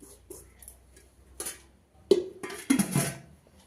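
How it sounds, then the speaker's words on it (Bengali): Rice being served onto plates at a home meal, with a few sharp clinks and taps of dishes and utensils, the loudest knocks coming near the end, close and fairly quiet. "ভাত বেড়ে নিচ্ছি, খাবো এবারে"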